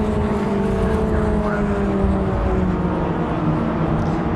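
Race cars with 1300cc Ford Crossflow engines drone steadily at Brands Hatch, a dense, continuous engine roar with sustained tones and no clear pass-by peak, at loud level throughout.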